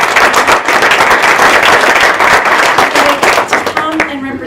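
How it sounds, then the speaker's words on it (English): Close, loud applause from a forum audience for the main speaker, rapid overlapping hand claps that stay dense before thinning out, with a voice briefly audible near the end. "can we give a quick round of applause?"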